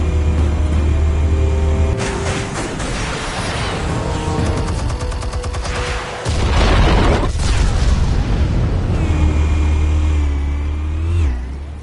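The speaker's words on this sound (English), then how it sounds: "Explosives armed. Fire when ready." Explosives detonate in a Batman Telltale video game, a heavy blast rolling in over a steady low engine-like rumble, with a second powerful boom surging midway and crackling debris, loud and close throughout.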